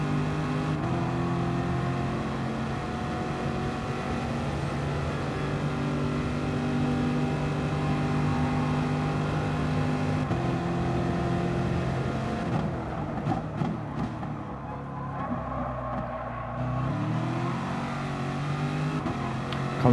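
GT Sport race car on the Sardegna Road Track holds a loud, steady engine drone through the final lap, dipping briefly as the driver brakes for a corner before the engine revs back up.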